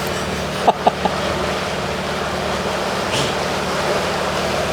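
A steady low boat engine drone runs throughout on a Cobra Yachts Futura 36, with a few brief clicks near the start and faint splashing in the background.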